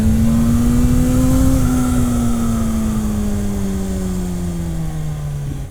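MV Agusta Brutale 1000 RR motorcycle, 208 hp, accelerating hard with the front wheel lifted: a loud, close engine roar holding a high, steady pitch, then sagging gradually as the run goes on, with no talking.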